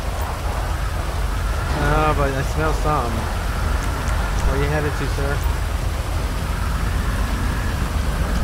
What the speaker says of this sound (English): it's raining, it's coming down